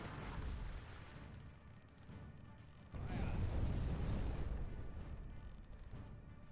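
Heavy, booming ship cannon fire in the pirate game Buccaneers!, with a rumbling volley rising after a short lull during a sea battle off a town; no talking.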